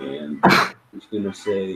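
A sudden loud sneeze bursts out in the middle of talk among players at a tabletop role-playing game session, briefly cutting across the voices before speech resumes.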